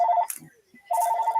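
A phone rings in two loud electronic bursts with a short quiet gap between them, just before a call is answered.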